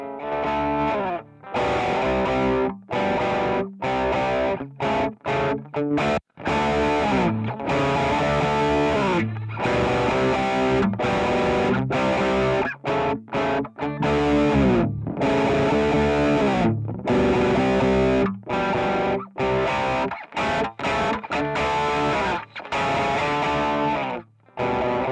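An electric guitar runs through a Boss GT-1000 distortion amp model with bass, middle and treble shaping, playing loud, gritty chords and riffs with short gaps between phrases.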